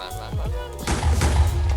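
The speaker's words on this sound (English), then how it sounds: "A beautiful explosion." A house blows up in Minecraft (snapshot 20w46a): a brief, booming, rumbling blast bursts out partway through while a person talks.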